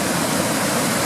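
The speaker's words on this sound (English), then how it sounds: "You can hear the water falling down there." Water pouring down at Natural Bridge in Banff National Park, a steady, loud broadband rush with no breaks, close by and unaccompanied.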